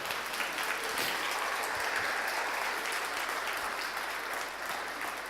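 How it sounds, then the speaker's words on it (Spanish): Church congregation applauding after a sermon line, a steady, dense wash of clapping that fills the whole stretch without pause, fairly close and even in loudness. "Dele un aplauso a Jesús por ello."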